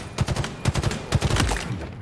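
Rapid bursts of video game gunfire in Halo Infinite as targets are shot in a practice mode, a quick run of sharp shots that closes in a denser rattle.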